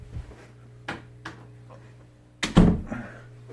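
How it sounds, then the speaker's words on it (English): An indoor door is pushed shut in a living room, preceded by a few light knocks and clicks and ending in a firmer thud with a latch sound, close by, with a low steady hum underneath. "Let me close the door here."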